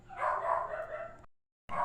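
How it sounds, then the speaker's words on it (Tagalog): A neighbor's dog barks in a short burst, then a pause, then barks again, somewhat distant and muffled. "yan po ay ingay po ng aso ng aming kapitbahay"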